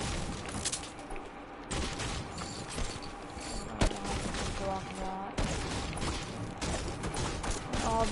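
Fortnite airstrike explosions and dense gunfire crash and thud through a chaotic battle, with sharp bursts standing out above constant rattling as a player talks over the noise.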